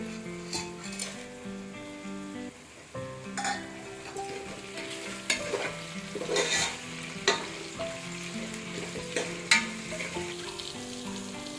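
Soya chunks frying in a pan for biryani give a steady close sizzle, while a spoon scrapes and taps against the pan in irregular stirring strokes.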